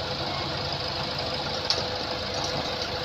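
A car engine idles steadily during repair work, an even close mechanical hum and ticking with one small clink partway through, no talking.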